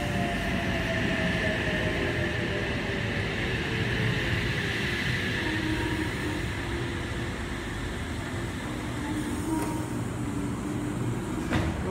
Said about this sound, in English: Wollongong service now departing platform 2.